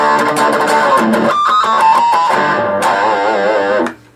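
Electric guitar played with heavy distortion, picked notes ringing into squealing pinch harmonics with wavering vibrato, loud and sustained throughout before cutting off abruptly at the end.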